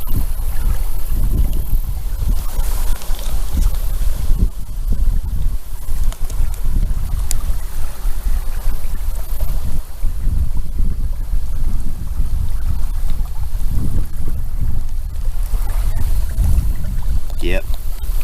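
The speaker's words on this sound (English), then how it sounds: "But I love the sound of that water." Lake water laps steadily at a campsite shore, a continuous rushing wash blended with gusting wind noise on the microphone, with no clear individual splashes.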